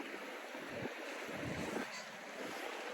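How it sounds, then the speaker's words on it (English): Wind gusting outdoors beside a river walk with a small waterfall in the old brick Stockyards district of Fort Worth, a steady broad rushing roar with slight swells, close on the microphone and continuous throughout. "Sorry about the wind."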